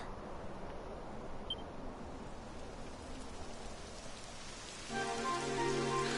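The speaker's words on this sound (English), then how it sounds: "Typical. It would have to go and start raining, wouldn't it?" Steady rain pours in Dragon Quest XI, a dense, even hiss of falling water heard alone without speech, with faint musical tones entering near the end.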